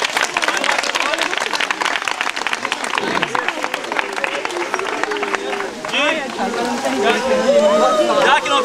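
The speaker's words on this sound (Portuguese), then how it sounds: "A salva de palmas para o Senhor Jesus" A congregation claps after a baptism, with a dense, lively patter of many hands that runs throughout while voices talk and call out over it.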